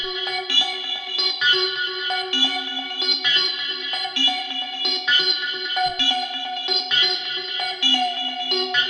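A dark hypnotic techno synth line with chorus and high feedback gives a metallic, shimmering texture, playing a repeating rhythmic pattern of bright tones with no voice over it.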